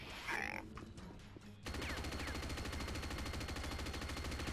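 A rocket launcher fired at point-blank range in an arena video game: a sudden, loud blast that gives way to a dense, sustained rumble of explosions and gunfire rattling on to the end, with a brief voice-like sound before the blast.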